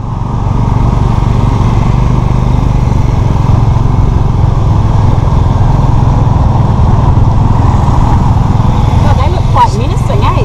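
Steady, loud motorbike engine drone from a motorbike-pulled tuk-tuk carrying passengers through Cambodian streets, with a continuous low rumble throughout and brief higher traffic or voice sounds near the end.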